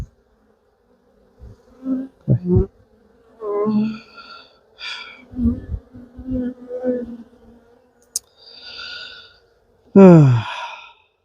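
Honey bees buzzing around an open hive while colonies are being combined: intermittent near buzzing bursts and wing hums rise and fade, with a loud close pass toward the end and breathy sighs between them.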